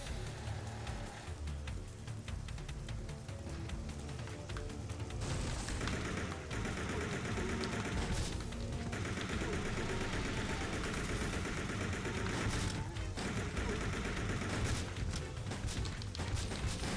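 Automatic gunfire in Resident Evil Survivor 2 – Code: Veronica rattles fairly steadily at moderate volume for the whole stretch, mixed with crashes and game noise and no talking.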